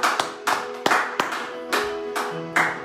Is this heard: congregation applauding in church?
yes